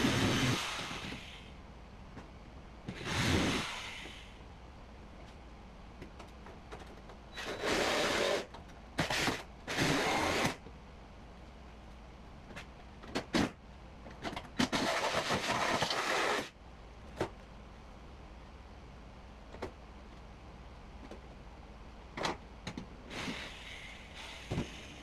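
Hand shears chew through layered, spot-welded sheet metal on a Lincoln Aviator body, producing repeated bursts of broadband cutting noise, a few long and several short, close up and separated by quiet pauses.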